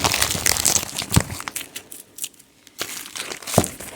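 Sonic Prime surprise packet in tightly sealed crinkly foil being torn and crumpled open close to the mic, bursts of loud crinkling and ripping with a short pause in the middle.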